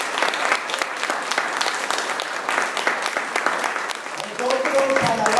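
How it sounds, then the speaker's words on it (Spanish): A church congregation applauds in praise of Jesus Christ, dense steady clapping filling the room throughout, with a voice rising over it near the end. "¿Cuántos pueden darle un aplauso para Jesucristo alabado?"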